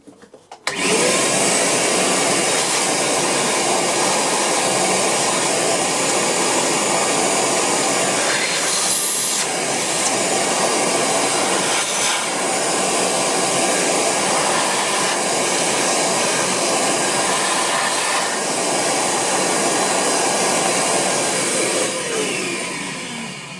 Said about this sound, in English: I will vacuum clean that too.